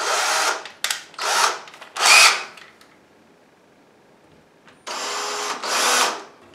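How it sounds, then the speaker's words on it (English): A power drill fitted with a thicker bit bores into a wooden cabinet drawer front in several close, loud bursts, with a quiet pause in the middle. "now that you have that center point on there, it's a lot easier and the drill won't walk around on there"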